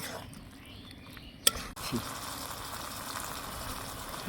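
Taro sautéed with spices and rohu fish head in a pan: a continuous moist sizzle with a sharp utensil clatter partway through, and a voice faintly under the cooking.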